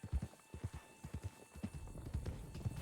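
Horses' hooves clip-clopping as a small herd is driven along in Red Dead Redemption 2, an irregular run of soft, close hoof thuds that grows busier toward the end.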